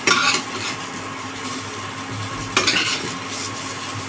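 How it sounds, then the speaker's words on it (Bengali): Cauliflower florets fried until reddish in a hot pan being stirred and lifted out, a steady close sizzle under scraping and clinking of a utensil against the pan, with a sharper clatter midway and no talking. "এই যে এবার ফুলকপিগুলো তুলে নিচ্ছি।"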